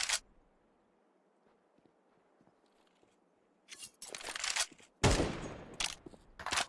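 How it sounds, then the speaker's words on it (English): Bursts of rapid gunfire in Counter-Strike 2 erupt after a few seconds of quiet room tone, loud and clustered, game weapons fired in quick volleys. "Gunshots we hear is just warm up."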